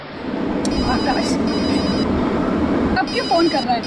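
A telephone rings in a repeating electronic pattern over a droning background, the tone breaking briefly and resuming.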